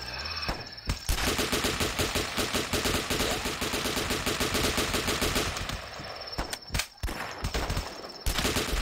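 Rapid automatic gunfire from shooting zombies in the video game The Last Stand, a dense, loud, continuous rattle of shots with brief gaps near the start and end.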